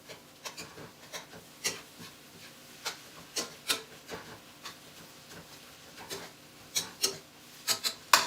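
A spatula scrapes and pushes eggs around a pan while scrambling them for Joe's Special, with soft, irregular rasping strokes repeating steadily at low volume.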